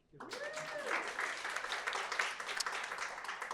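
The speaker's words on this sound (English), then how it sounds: "A round of applause." Steady applause from a college lecture audience, a dense wash of clapping that starts abruptly and holds throughout, with some voices mixed in.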